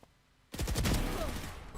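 Video game gunfire breaks out after a brief quiet moment, a rapid burst of several shots followed by a continuing loud, dense rattle and echo.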